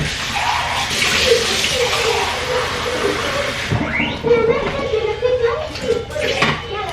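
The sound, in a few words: pouring water into a machine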